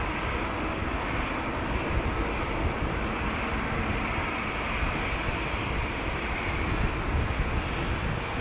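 An American Airlines Boeing 777 departs with a sustained, loud broadband jet roar that holds steady throughout, heard alone without talk.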